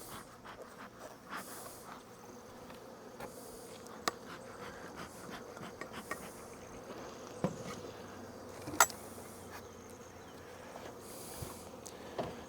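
Honey bees buzz around open beehives outdoors in a soft, continuous drone, with occasional faint clicks and knocks as the hives are handled and no talking.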